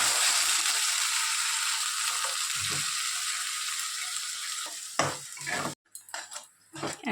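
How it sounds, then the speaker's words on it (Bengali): Onion paste sizzles in hot oil for a mutton curry, a bright steady hiss while a utensil scrapes and clinks against the pan, the frying fading toward the end amid louder knocks. "এরপর পেঁয়াজ বাটার পেস্টটা দিয়ে দিচ্ছি।"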